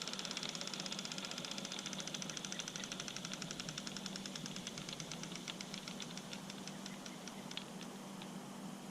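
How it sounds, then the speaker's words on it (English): A motor runs steadily at a quiet level with a fast, regular ticking or knocking rhythm over a low hum, with no talk. "I think it's still like the motor turning it."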